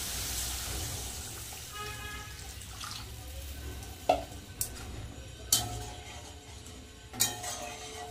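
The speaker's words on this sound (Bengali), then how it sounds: "দিয়ে দেবো জল" Water goes into a pan of fried spices while cooking a Bengali fish curry, giving a soft steady rush with a sizzle, followed by a few sharp clanks of utensils against the pan.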